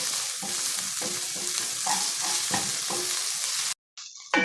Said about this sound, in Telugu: అల్లం వెల్లుల్లి పేస్ట్ని కూడా పచ్చివాసన పోయేంత వరకు వేయించుకున్నాము